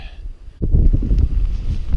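Wind suddenly gusts into the microphone at a backpacking campsite after a brief quiet moment, a loud low buffeting rumble that keeps rolling and flapping.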